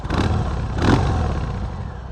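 A Harley-Davidson FXDR motorcycle engine revs up with a deep, rumbling growl, close and fairly loud, swelling once before settling.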